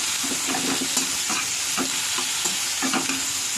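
Sweet jujube chutney stirred in a frying pan, with a spoon scraping in repeated short strokes over a steady close sizzle, no voices.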